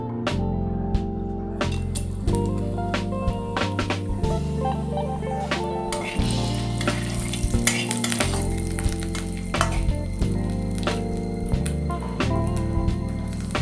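Cumin, cinnamon, cardamom, cloves and bay leaves frying in a spoonful of mustard oil in a kadai for a crab curry, giving a steady, close sizzle with occasional utensil clicks and stirring throughout.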